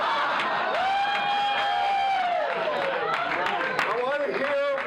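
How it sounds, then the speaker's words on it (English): A crowd at a museum cheers and whoops loudly, with shouting voices blending into a sustained roar that carries on throughout. "I want to hear one cheer for the club safety officer"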